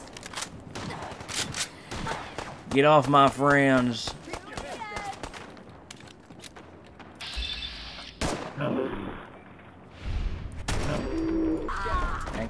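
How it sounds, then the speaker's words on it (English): Gunfire, mechanical clanks and bursts of combat noise in the video game Fallout 4, scattered sharp shots and rumbling hits mixed with in-game voices and a player talking over it. "there's so many explosions."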